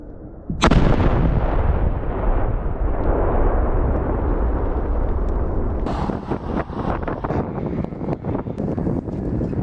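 A sudden heavy blast from the disposal detonation of 200 Grad rockets and an S-300 missile warhead at a range in Donetsk region booms out and rolls into a long rumbling roar, with wind buffeting and later crackling bursts.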